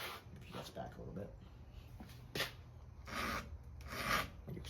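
Hand file strokes across the cutting tooth of a 1970s Homelite chainsaw chain give a few short raspy scrapes spaced a second or so apart, close up and moderate in volume, under a speaker's voice.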